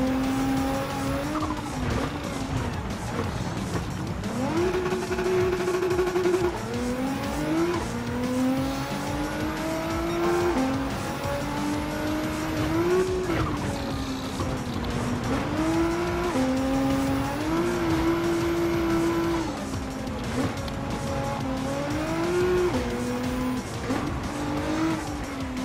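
Race cars in the Gran Turismo 7 video game on a Group B rally stage, with engines revving and shifting up and down and tires squealing and skidding, loud and continuous with no voice.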